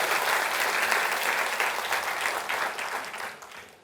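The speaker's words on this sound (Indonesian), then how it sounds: "Boleh berikan tepuk tangan untuk kita semua?" A studio audience at an Indonesian television talk show breaks into steady, full applause that holds loud for several seconds, then thins and fades toward the end.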